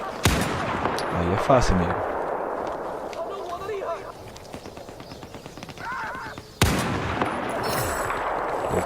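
Gunfire in the video game Battlefield 4 on a railway team deathmatch map: sharp, loud shots crack near the start and again past the midpoint, over a busy battle din while someone talks.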